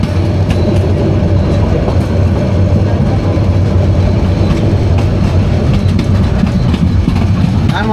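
Inside the Subarno Express passenger train running from Dhaka to Chittagong past Laksam, a loud, steady rumble of wheels on rails fills the carriage, with faint rhythmic clatter and no break in the noise.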